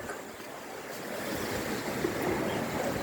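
Strong wind from a passing cyclone blows along the northern coast, a broad rushing roar that builds gradually and buffets the microphone, mixed with what sounds like distant surf.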